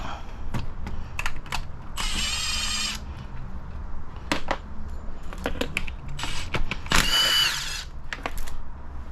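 Ratchet and power driver removing valve cover screws on a 2009-2015 Nissan Maxima, with bursts of fast whirring, clicking pawl strokes and small metallic clinks, close up with no speech.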